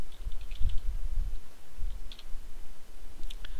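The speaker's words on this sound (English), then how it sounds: "Now I'm going to type in select partition 1." Computer keyboard keys tapped while typing commands to prepare a USB flash drive for a Windows 7 install: sparse, faint, light clicks over a low background rumble, with no talk.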